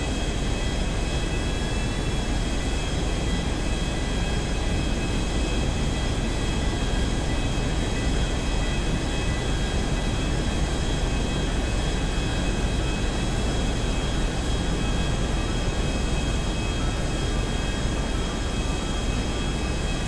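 Airplane engine in GTA5 with the Hulk mod, a continuous loud roaring drone with steady whining tones, unbroken and close for the whole stretch, no talk.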